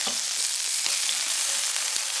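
A New York strip steak sears in a hot pan for a steak flatbread, giving a loud, constant, close hiss and crackle with small pops scattered through it and no voices.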